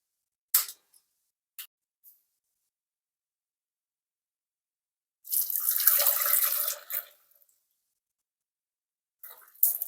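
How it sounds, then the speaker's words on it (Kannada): Water drained off cooked, softened lentils (toor dal) in a home kitchen: a few brief splashes, then a two-second gush of pouring liquid, with short clinks of utensils around it. "ಇದನ್ನ ಇವಾಗ ನೀರು ತೆಗೆದ್ಬಿಟ್ಟು ಊಟ ಮಾಡಿಟ್ಕೊಳ್ಳೋಣ."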